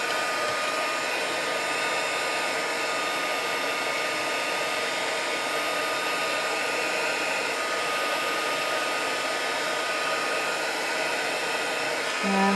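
A heat tool blows steadily to dry Tim Holtz embossing glaze on a craft piece, a continuous loud whirring hum lasting throughout with no talk.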